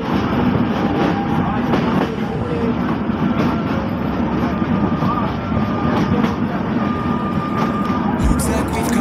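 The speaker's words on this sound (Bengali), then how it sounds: "তো গাইজ সিটে বসতে না বসতে আমাদের ট্রেনটি ছেড়ে গেল।" From inside a Sagardari Express passenger train on the way from Chuadanga to Jessore, a steady low rumble and rattle of the moving carriage carries on throughout, with faint clicks and some muffled background voices.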